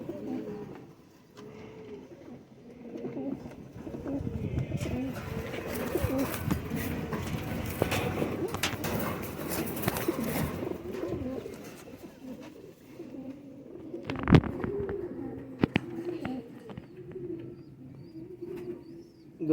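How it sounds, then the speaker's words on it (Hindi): Sialkoti pigeons coo in steady, repeated rounds, a close flock of throaty calls rolling on continuously, with a few sharp knocks and flutters partway through and no talking. "दोस्तों ये तकरीबन सब सियालकोटी कबूतर हैं"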